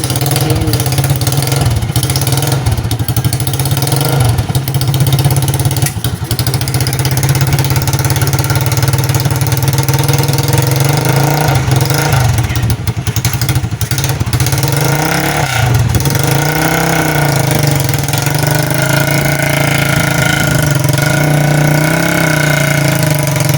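A family's service motorcycle engine runs steadily for the whole stretch, idling with a constant low drone and occasional slight rises in revs, close by and loud, with no talk over it.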